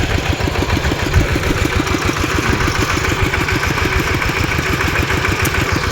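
A Kubota engine powering a water pump runs close and loud in a steady, throbbing idle. Nothing else is heard over it.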